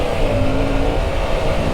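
A 2024 Triumph Tiger 900 Rally Pro motorcycle pulls through a corner with a steady, close engine drone, rising slightly as the throttle opens.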